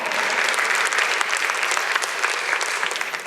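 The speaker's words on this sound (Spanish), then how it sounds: "Un aplauso al Señor." A church congregation breaks into loud, continuous applause during a worship lesson. The dense clapping holds steady for about three seconds with no speech over it.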